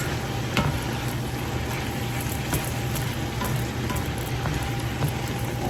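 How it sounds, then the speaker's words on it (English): Butter-braised cabbage tossed in a hot pan, a steady broadband frying sizzle with scattered soft clicks and scrapes of stirring, continuous and close throughout. "Toss this really well."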